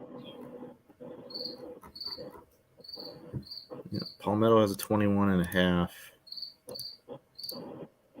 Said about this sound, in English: You got a cricket in your garage